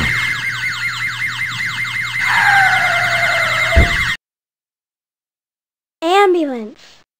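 A wailing ambulance siren in the PC game Arthur's Teacher Trouble sweeps up and down for several seconds, cuts off abruptly, then a short synthetic squeal follows after a pause.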